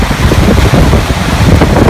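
Steady roar of wind and surging ocean waves on a beach during net fishing, loud and continuous, with wind buffeting the microphone throughout.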